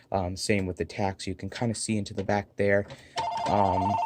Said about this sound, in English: Sorry about the phone ringing over there.